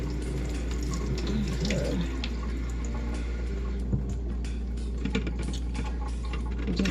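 Fruit is rinsed under a running kitchen tap, a steady close splashing stream of water with small clatters and knocks as the pieces are handled in the sink.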